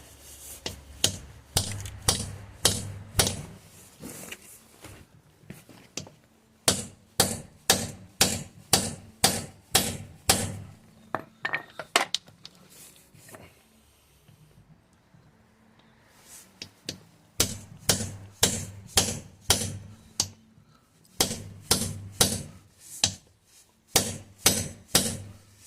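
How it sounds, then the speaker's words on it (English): A lock wheel nut remover is hammered onto a wheel nut in sharp metallic strikes, loud and close, falling into rapid rhythmic bursts separated by a quiet pause in the middle. "so we can just hammer this on."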